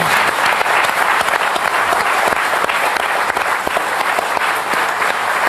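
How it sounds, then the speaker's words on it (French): Studio audience on a French Sunday TV variety show breaks into loud, sustained applause, dense and steady throughout with no voices. "Je vous demande d'applaudir Jean-Claude Brialy."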